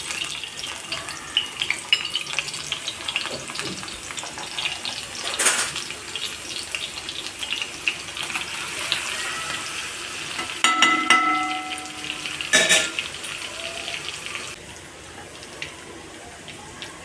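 Fish marinated in masala sizzles steadily in hot oil with garlic, a close, continuous crackle that flares in a few sharp bursts partway through, with clinks of a pan or utensil but no talking.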